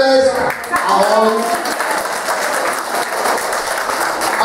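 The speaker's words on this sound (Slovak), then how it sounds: "Veľký potlesk" Applause from children and an audience at a kindergarten visit in Luník IX, Košice, a dense clapping wash that holds steady for several seconds with voices mixed in near the start.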